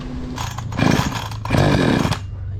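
A Stihl chainsaw that stalls when run for long idles close by after spark plug and low-speed screw adjustments, its engine rising in two short revving surges before settling back to a rough idle.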